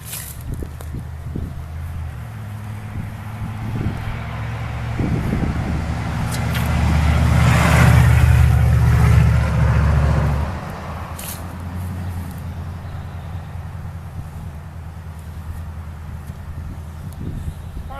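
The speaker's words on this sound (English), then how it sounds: "the cars are so loud here" Cars pass on a road about fifty yards from a yard where a Thundercloud plum is being planted. A steady traffic hiss swells into one loud, close rushing pass lasting a few seconds, then eases back to a constant background roar with faint footstep-like sounds.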